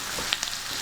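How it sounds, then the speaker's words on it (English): Onions sauté in a pan with a steady, loud hiss of frying and a few small pops and crackles over the brief moment, with no voices. "those onions are smelling good. They are, and they're sizzling away."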